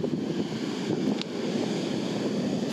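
A stormy sea churns and crashes beside a coastal road on the Oktyabrskaya spit, with steady surf roar mixed with wind buffeting the microphone, continuous and fairly loud.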